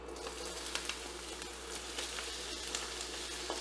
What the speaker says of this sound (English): we're going to add our onions into our oil.